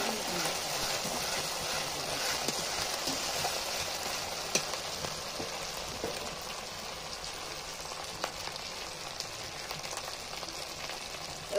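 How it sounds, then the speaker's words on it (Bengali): Cumin and black pepper paste frying in a pan with chopped tomato added, cooked over a clay stove: a steady, dense sizzle and crackle running continuously at close range, with occasional light clinks. "সেই জিরে আর গোলমরিচ বাটা দিয়ে খুব ভালো করে মশলাটা কষিয়ে নিচ্ছি। এবার এর মধ্যে দিয়ে দিচ্ছি কেটে রাখা টমেটো।"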